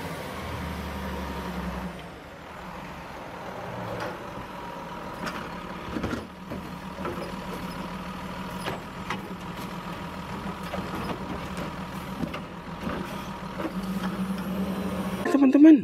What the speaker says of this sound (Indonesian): Ini ada truk pengambil sampah teman-teman.